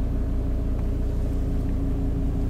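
A Volvo XC90 D5 diesel engine running at idle after a cold start, a steady, close low rumble with a faint rhythmic throb and no voices.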